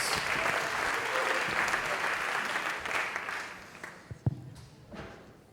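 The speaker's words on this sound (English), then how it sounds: "Round of applause again." A conference audience gives a round of applause at a digital storytelling session. Clapping starts dense and steady, then thins into scattered claps before fading out.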